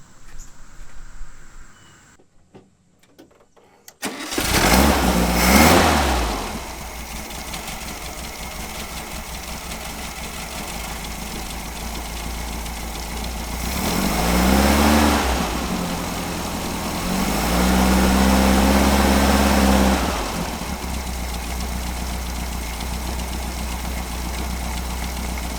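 A 1975 Volkswagen Super Beetle convertible engine cranks and catches, then settles into a steady, rumbling idle up close, with a couple of revs rising and falling along the way.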